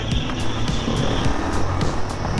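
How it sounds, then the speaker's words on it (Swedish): A KTM 500 EXC enduro motorcycle engine drones loudly and continuously close by, its pitch rising and falling slightly as it revs, with no talking. "Motorn har ju kraft alltså"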